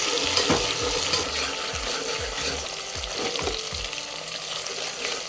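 Onion and tomato fry steadily in a pan, a constant close sizzle broken by repeated low scrapes and knocks of stirring throughout, with no talking.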